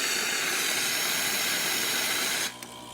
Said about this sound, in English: nice steam as well as excellent water flow coming around it.